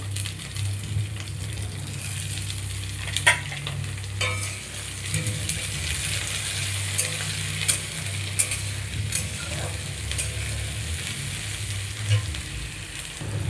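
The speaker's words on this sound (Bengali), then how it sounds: "আমি এবার কেটে রাখা পেঁয়াজের টুকরোগুলো একটু দিয়ে দেবো হালকা ভেজে নেবো" Onion pieces and lightly fried potato sizzling in a pan for ghugni, a continuous close crackle broken by sharp clinks and scrapes of a spatula stirring against the metal.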